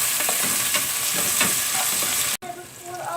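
Ingredients for a Persian-style mutton dum biryani being stirred in a hot pan, with a steady sizzle of frying under repeated scraping strokes of a spoon; a brief cut near the end, then quieter stirring resumes.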